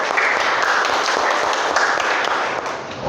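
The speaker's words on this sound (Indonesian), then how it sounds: "Oke, tepuk tangan buat kita semua dong" Class participants applaud together in a steady, dense burst of clapping that stays loud and even for the whole stretch, tapering only slightly near the end.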